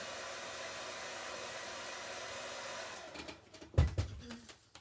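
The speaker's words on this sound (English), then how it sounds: "I have to use the hairdryer again" A hair dryer blows with a steady whooshing hum for about three seconds, then shuts off, followed by a few soft knocks and handling noises.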